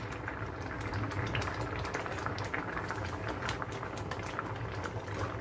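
Broth poured into a hot pan while cooking Serbian rice, giving a steady bubbling and sizzling hiss at moderate level for several seconds, with no talking.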